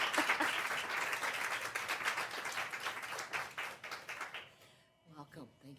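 A crowd applauds loudly and steadily for several seconds, then the clapping fades out and a voice begins speaking.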